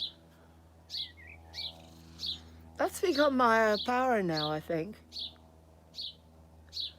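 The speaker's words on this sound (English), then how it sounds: "Oh, listen to the birds." Birds chirp in short, evenly spaced bright calls about once a second, close and clear, while a person speaks briefly in the middle.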